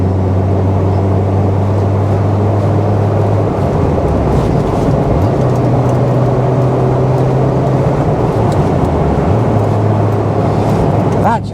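Peugeot 205 CTi soft-top hatchback engine pulling steadily while driving, a continuous low drone that drops in pitch with gear changes, loud and close throughout.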